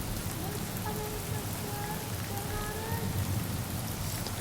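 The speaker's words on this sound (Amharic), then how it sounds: "ይሄ ዝናብ ያሾቀኝ ነበር።" Steady rain falling, a dense continuous patter with no pauses, and faint tonal sounds drifting underneath.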